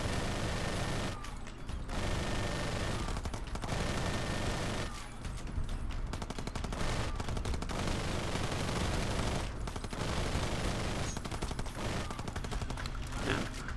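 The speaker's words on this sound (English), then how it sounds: "The minigun may be a little overpowered. I like the minigun." Minigun fire from the R.I.P.D. The Game shooter pours out in long, dense, continuous bursts. It is loud and close, with only brief gaps between bursts.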